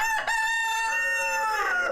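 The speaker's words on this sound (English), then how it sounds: "These chickens belong to the Old Harbor tribe." An Old Harbor tribe hen on an Alaska farm gives a loud, drawn-out, harmonic crowing call from close by, sustained for about two seconds with no talking.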